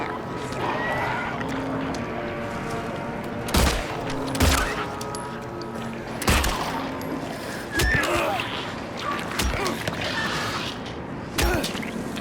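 Gunfire in the Silent Hill 2 Remake video game: a handful of sharp, loud shots spaced a second or more apart over a steady ambient drone and creaking mechanisms, with someone talking in between.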